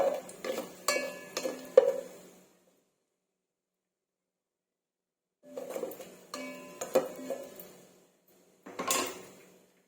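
Cinnamon, cardamom and dried red chili tossed in a pan for jeera rice, heard as bursts of clattering and scraping against the pan with faint sizzle, separated by a long silent gap, then a final short burst.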